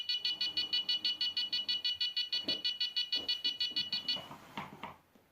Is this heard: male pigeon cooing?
no